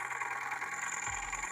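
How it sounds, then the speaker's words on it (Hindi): A farm irrigation water pump engine runs steadily in an open field, with a broad, continuous hum and a low thud appearing near the end; there is no talking. "तो दोस्तों आ गए हैं इंजन के पास में। ये देखिए पाइप गई है और ये रहा इंजन,"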